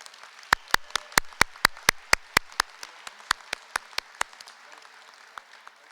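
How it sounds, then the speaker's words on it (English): Scattered applause at a Lincoln Day political dinner for House District chairs: a dozen or so sharp claps, fairly loud at first, then thinning and fading out after about four seconds. "One more round of applause for our House District chairs."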